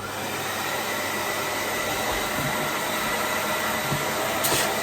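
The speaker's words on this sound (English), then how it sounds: "This is called a hoover, or a vacuum cleaner, actually, because hoover is a brand name." A household hoover vacuum cleaner runs with a steady, loud whooshing drone and high whine, unbroken for the whole stretch with no talking.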